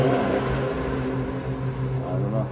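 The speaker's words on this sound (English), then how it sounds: "there's a car." A car passes near a racetrack workshop, its engine giving a steady rumbling drone that swells and eases over a few seconds, fairly loud with no talk.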